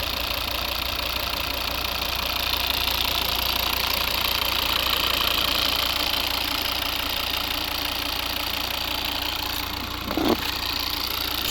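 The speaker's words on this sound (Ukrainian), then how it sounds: "Класно працює двигун." A 2011 Volvo V70 with a 2.0 D3 diesel engine idles close by, giving a loud, steady, even clatter that runs unbroken with only a brief small bump near the end.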